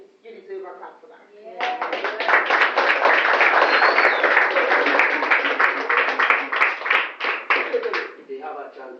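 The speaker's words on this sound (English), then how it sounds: "I think you deserve a clap for that" Audience clapping for pupils of Bacolet Government Primary School on a morning program, a dense burst of many hands rising sharply, sustained loudly for several seconds, then tapering off.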